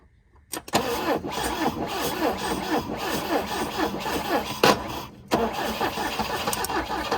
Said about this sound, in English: Let's give a little choke and we'll hit the starter.